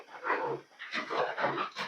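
A dog at an abandoned resort makes a series of short, close whining yelps and soft growly vocalizations, several bursts in quick succession.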